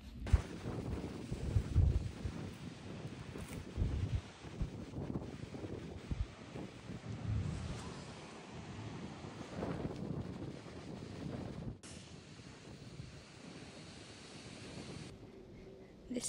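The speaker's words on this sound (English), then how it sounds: "The wind is very, very windy up here." Strong wind on an exposed UK hilltop in November, a continuous loud rumble and buffeting against the microphone with gusts rising and falling throughout.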